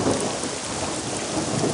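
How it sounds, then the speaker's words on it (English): An approaching thunderstorm with steady heavy rain and low rumbling thunder, a continuous dense wash of sound with no voices. "I climbed under my covers and listened to the sounds of an approaching storm."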